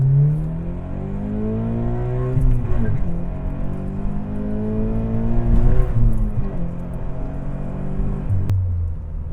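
A Scion FR-S sports car with a tuned ECU revs hard from inside the cabin, engine pitch climbing steadily, dropping sharply at each gear change, then rising again, loud and continuous.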